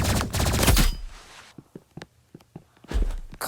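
Energy pistols fire in the video game Rivals: a dense, loud burst of blasts opens, followed by scattered sharp single shots and light clicks, then another burst near the end.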